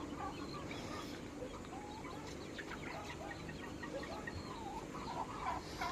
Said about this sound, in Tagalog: Ito yung shamo namin.